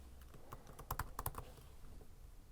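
Fast, uneven clatter of keys on a computer keyboard, heard up close and alone in a quiet room, with short bursts of clustered keystrokes.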